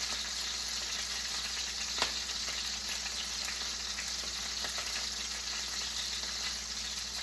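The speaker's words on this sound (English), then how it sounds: "I'm going to put some butter on this here steak" Steak frying in butter in a pan gives a steady, continuous sizzle with faint crackles and a few small pops throughout, close by and with no talking.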